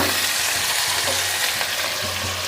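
Precooked, cooled rice is stir-fried with half-cooked vegetables for homemade veg fried rice, giving a loud, dense, continuous sizzle. A utensil stirs and scrapes it steadily up close, with no talking.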